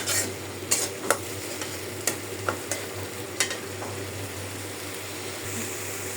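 Spice paste sizzling steadily in a pan for fish-head muri ghonto, with a scattering of sharp clicks and scrapes from stirring over a constant low hum, close and with no talking.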